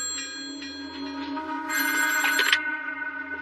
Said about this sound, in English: she had gotten a phone call from Jackie.